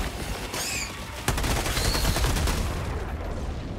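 A grenade goes off in the Helldivers 2 battlefield, a sudden broadband blast that lands mid-clip over heavy ongoing gunfire and combat noise, rumbling on loudly afterward.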